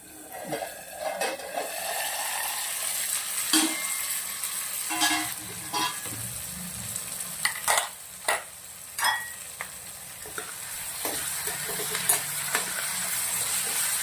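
Onions frying in oil in a pan for a Rajasthani onion-cream curry, a steady sizzle that runs the whole time with a scattering of sharp scrapes and clinks as a spoon stirs them, close by and with no talking.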